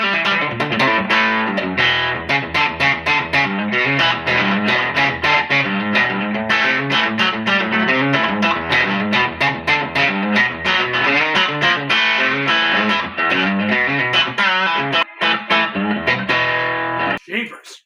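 An electric guitar played through a Joyo Bantamp Jackman II amp with reverb rings out in a loud, continuous run of strummed chords and riffs, slightly distorted, with a trailing reverb tail at the end.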